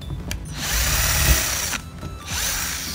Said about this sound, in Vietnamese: Rồi mình sẽ khoan đen lỗ nữa.